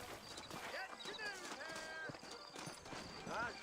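Saddled horses clip-clop along in the video game Red Dead Redemption, a brisk, steady hoof rhythm in the foreground mixed with a whinny and tonal game sounds while people talk over it.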